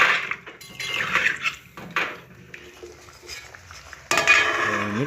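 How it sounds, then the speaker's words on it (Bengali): Stirring a cauliflower and prawn curry in a pot after cold water goes in, with irregular clinks and scrapes of a utensil against the pan, then a louder burst of clattering near the end. "এবার আমি ঠান্ডা জল এর মধ্যে দিয়ে দিলাম, ভালো করে নেড়ে দেবো।"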